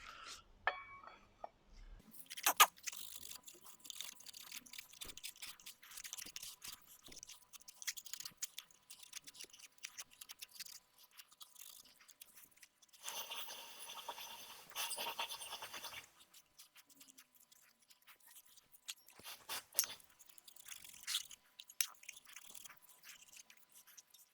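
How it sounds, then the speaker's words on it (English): A Scotch-Brite pad scrubs rust off the blades of a Saab auxiliary part in faint, scratchy strokes, with bursts of denser rubbing that come and go and quiet gaps between them. "I just need to clean up the blades here now with a little bit of Scotch-Brite"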